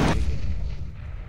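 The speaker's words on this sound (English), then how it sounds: "Throwing a grenade." A grenade exploding in a tactical shooter game on the Panorama map: one sharp, loud, close blast that decays into a short rumbling tail.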